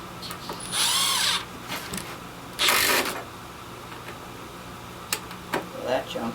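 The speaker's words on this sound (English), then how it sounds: "So the 3-inch screws drove really well on mode 3." A Milwaukee 12V impact driver drives 3-inch screws in mode 3, giving two loud bursts of about a second each, separated by a short pause, then a few faint clicks and handling taps.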